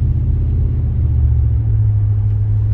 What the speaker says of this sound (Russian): Вот так мотор вроде работает четко, да, так набирает